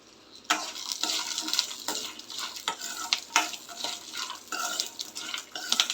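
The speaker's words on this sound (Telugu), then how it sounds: "సిమ్లోనే వేగనివ్వాలి, లేకపోతే మాడిపోయే అవకాశం ఉంది." Peanuts for palli chutney fry on a low flame and are stirred repeatedly; a close, lively sizzle carries rhythmic scraping and rattling strokes throughout, with no talking.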